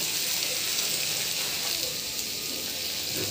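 Ridge gourd peels fry in hot oil, giving a steady, even sizzle with fine crackling throughout, close and moderately loud, with no talk.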